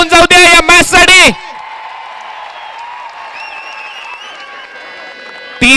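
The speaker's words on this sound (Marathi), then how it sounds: "आपल्यासाठी जोरदार टाळ्या होऊन जाऊ द्या या मॅच साठी" Crowd applause at a Thane versus Raigad cricket match in the Dhanesh Chashak tournament at Vashere, a steady distant wash of clapping and murmur, with a loud announcer's voice just before and after.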